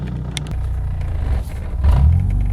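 A BMW E36 drives along on the way to a car wash, its engine a steady low rumble heard from inside the car, swelling briefly as it accelerates near the end, with no talking.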